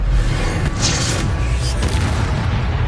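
Incendio fire spell cast in a Hogwarts video game, a dense booming whoosh of flame with a brighter burst near the middle, loud and continuous over about three seconds.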